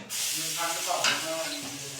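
Garlic and ginger paste hits a hot pan for a soybean nutri curry and sizzles at once, a close, steady frying hiss with faint stirring that continues throughout.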